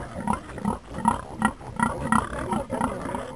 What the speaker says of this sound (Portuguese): Esse é um criatório de porcos a 100 metros do lixão